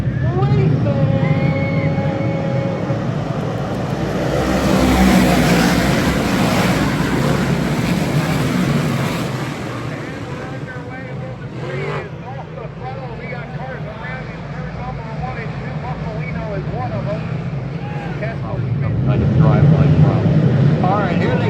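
Race cars at a little league racing night roar past coming off turn 4, a loud sustained engine drone swelling and fading across the track, with a public-address announcer talking over it.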